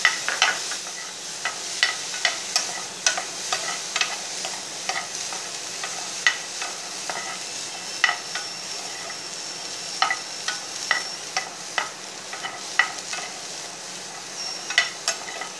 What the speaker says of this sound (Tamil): இந்த பேஸ்ட் பண்ணுற சாமானை கொஞ்சம் லைட்டாக ஃப்ரை பண்ணிக்குவோம்